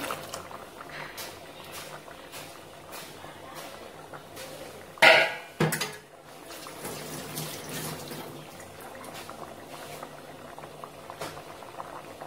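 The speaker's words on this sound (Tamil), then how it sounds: "இதையும் ஊற்றிடலாம் கரைச்சிட்டோம்" Water pours and bubbles into a pot of kurma, with a louder splashing burst in the middle and soft bubbling and patter before and after.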